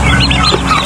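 Several turkey chicks chirping and peeping close together in quick, overlapping calls, loud and near.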